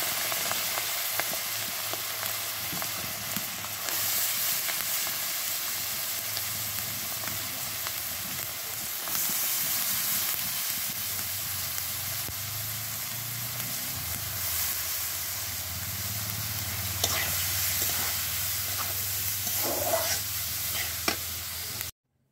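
Papaya and egg with onion frying in a pan, a steady sizzle with stirring and scraping throughout, close and continuous, with no talking.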